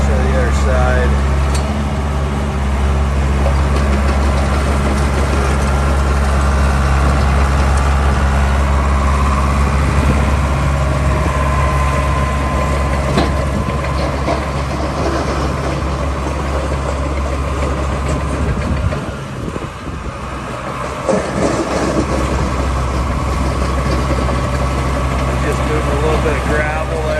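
A 1987 Caterpillar D3B foot-steer bulldozer engine runs loud and steady at close range while the machine maneuvers, its deep low rumble continuous with a brief dip, and someone talking over it.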